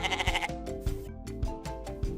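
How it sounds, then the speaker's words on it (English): A goat bleats repeatedly in short wavering cries, fairly close and moderately loud, with brief pauses between calls. "Goat."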